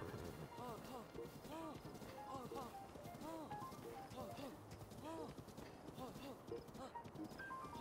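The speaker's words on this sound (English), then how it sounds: "Don't mind this giant horse." Heavy, steady clip-clop of a giant horse's hooves in The Legend of Zelda: Breath of the Wild, a continuous rhythmic trot with occasional snorting or whinny-like sounds, while a person talks over it.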